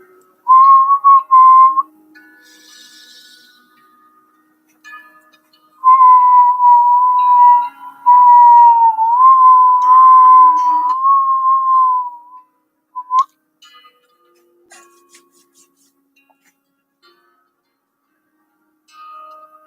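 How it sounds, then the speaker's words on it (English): A person whistles a tune in sustained, steady notes: a short phrase, a pause, then a longer melodic run with slight pitch bends, loud and close, with quiet gaps in between. "I'm going to whistle a little bit more while I can here."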